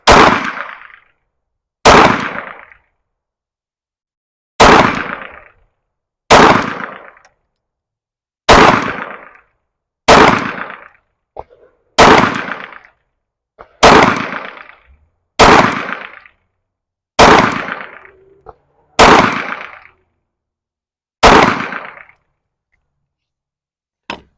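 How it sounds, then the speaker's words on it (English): A PSA Dagger pistol with a red dot sight fires at small targets outdoors. Twelve loud, sharp single shots ring out at uneven intervals of one to three seconds, each with a short decaying echo and silence between. "We'll shoot this last target, and then we'll go down and take a look what we have."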